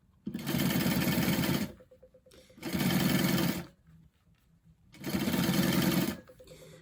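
Sewing machine top stitching the bottom seam of a bag in three steady runs of about a second and a half each, with quiet pauses between them, close and clear.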